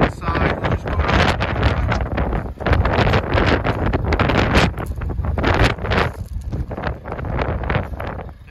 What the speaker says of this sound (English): Very wild and windy, so I'll save the talk until we jump inside.